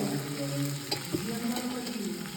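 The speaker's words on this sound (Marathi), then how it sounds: "हिरव्या मिरच्या हातात घे ना हे तेवढे टाकून मग आता हे चांगलं परतून देऊन" Green chillies sputter and sizzle as they are stir-fried in a pan, a steady close crackle with faint scraping and a few louder pops.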